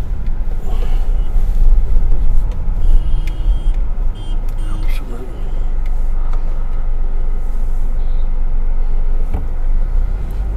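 Traffic rumbles steadily along the Karnal–Meerut highway, cars and trucks passing close and loud with continuous low roar, occasional beeps and brake hiss, and faint voices underneath.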